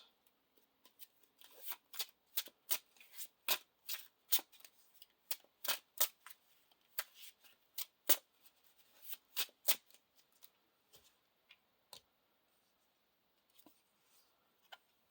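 Cards for the Lord of the Rings card game being searched and handled on a table: a long run of crisp, close, quiet card flicks and slides in quick irregular bursts, thinning out toward the end.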